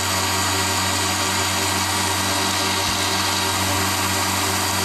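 A CNC precision linear circular saw, mill and drill with its spindle running at around 5,500 rpm gives a steady machine drone with a low hum and broadband whine, continuous and close, with no talk.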